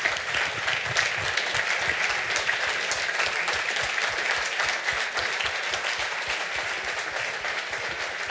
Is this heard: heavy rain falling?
no